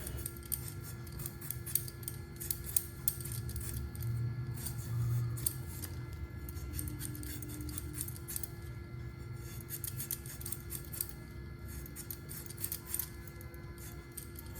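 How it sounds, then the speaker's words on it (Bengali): A knife cuts potato and onion in a home kitchen, giving a run of small, crisp clicks and taps that repeat irregularly at close range over a faint background hum. "একটুখানি আলু আর হলো গিয়ে পেঁয়াজ এগুলো কেটে নেব"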